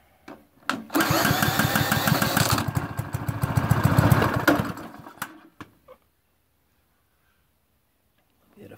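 A Cheetah lawn mower, a Chinese copy of a Honda engine, pulls into life after a couple of starter tugs, runs with a loud, close chugging for about four seconds, then cuts out, followed by a few clunks.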